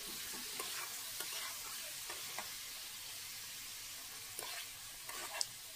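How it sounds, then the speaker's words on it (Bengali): Masala for a rita fish head curry with taro fries in a pan, a soft steady sizzle with occasional light stirring clicks, quiet and close, no voices. "তো দেখো এইভাবে আমি ঢাকনা চাপা দিয়ে দিয়ে মশলাটা কষিয়ে নিচ্ছি ভালোভাবে"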